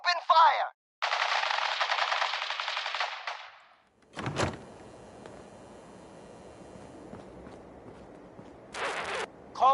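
Machine-gun fire in a Fallout 4 Silver Shroud quest, a loud sustained burst followed by a sharp impact and lingering rumble, with brief voice fragments at the edges.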